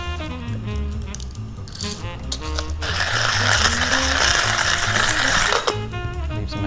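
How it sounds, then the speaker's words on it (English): A coffee grinder whirs through beans at close range, a dense steady grinding noise that swells after a softer start and runs on continuously before cutting back. "I gotta grind some beans, hold on."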